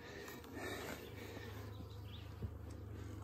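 Honeybees buzz around a nucleus colony hive in a faint, steady drone with a few insects passing near, and no talking.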